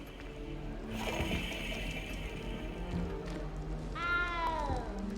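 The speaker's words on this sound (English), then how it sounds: "You don't need to be frightened, little cat." A cat in a video game lets out a drawn, falling meow near the end, heard over a steady hum of background game ambience and faint tapping.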